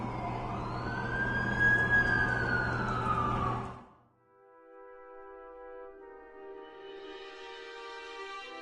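An ambulance siren wails in The Amazing Spider-Man 2, a loud sweeping tone that rises and falls for several seconds before cutting off abruptly, followed by quieter sustained tonal sounds.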